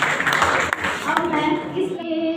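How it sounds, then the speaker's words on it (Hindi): An audience claps for a singing performance at a Vijay Diwas festival competition, a steady patter of hands for about a second and a half before sustained musical tones take over. "इनकी जोरदार तालियां हो जाए"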